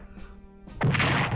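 Artillery fire in the Strategic Command strategy game: a couple of brief muffled thumps, then a loud, sustained crashing boom that fills the rest of the moment, heard close and alone.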